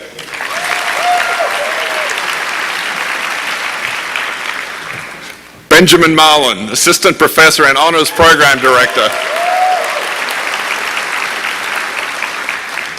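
Large audience applause at a 2016 computer science senior celebration, a steady wash of clapping from a crowded hall, briefly broken by a man announcing a faculty name over a microphone before the clapping carries on.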